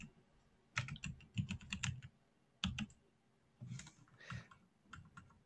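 Keys on a computer keyboard tapped at a close distance, typing a line of code in Visual Studio: bursts of quick clicks in two short runs, a pause, then a few scattered taps.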